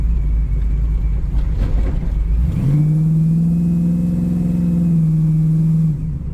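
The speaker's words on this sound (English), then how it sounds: "This thing definitely rumbles a ton of drone with that exhaust." A 1979 Chevrolet Camaro rumbles with heavy, droning exhaust, a deep low idle shifting into a steady, louder engine tone held for several seconds before easing off, close up and with no voices.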